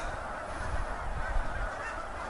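Tundra swans call from a flock, a dense steady chorus of honking and hooting voices blending into a continuous wash, heard from a little distance outdoors.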